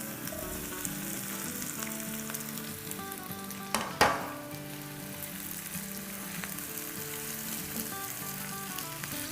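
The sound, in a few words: chicken being sautéed in a pan for chicken jalfrezi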